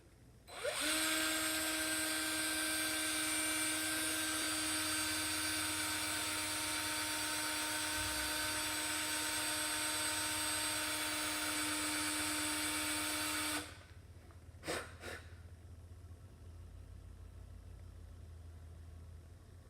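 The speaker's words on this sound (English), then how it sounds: "I'm going to start drilling now." A power drill bores into a metal quarter for ring making, a loud steady whine running unbroken for about thirteen seconds before cutting off, followed by a couple of brief clicks and quiet room noise.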